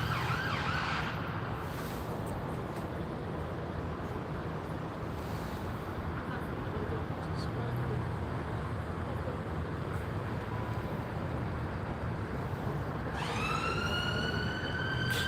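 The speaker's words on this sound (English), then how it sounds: "Another ambulance." A wailing ambulance siren in Gloucester, England rises near the end over a constant roar of wind or rushing background noise, heard from some distance.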